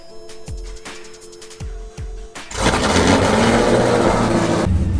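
A Pontiac G8 with freshly replaced battery terminals cranks in a few slow, labored pulses, then fires and settles into a loud, steady engine idle close by.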